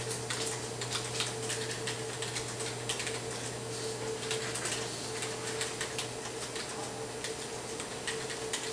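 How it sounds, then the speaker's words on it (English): Rapid keystrokes on a computer keyboard while a comment is typed during a PLC lab session; steady close clicking with a low background hum, no talk. "Then I just start typing my comment."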